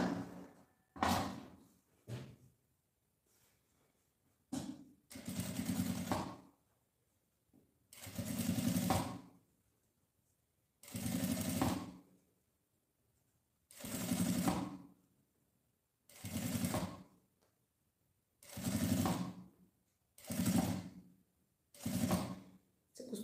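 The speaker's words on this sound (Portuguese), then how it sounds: "Eu vou fazer uma costurinha bem na beiradinha com ela dobrada, desta marcação até chegar aqui na outra marcação" Sewing machine running a slow seam along the folded edge of fabric for a small handbag, in about nine separate bursts of stitching with short pauses between them, close and clear with no talk.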